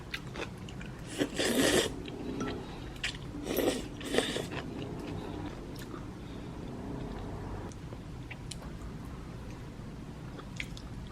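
Crunchy yeolmu radish kimchi being chewed close up, with two loud bursts of crisp biting and crunching followed by softer, quieter chewing in a calm room.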